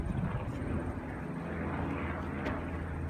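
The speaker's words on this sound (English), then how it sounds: "See the helicopter?" A steady, low rotor-and-engine drone of a helicopter passing overhead in the Badlands of South Dakota fills the air at an even loudness, with voices faintly audible underneath.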